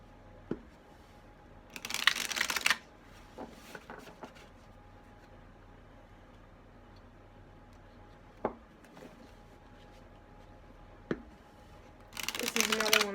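Blessed Bee oracle cards by Lucy Cavendish being shuffled, a large deck handled in two dense riffling bursts at the start and end, with soft taps and handling noises between and a quiet room background.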